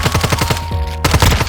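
Rapid automatic gunfire in the Warzone Mobile video game, loud and close, fires in an even rhythmic burst, pauses briefly, then resumes.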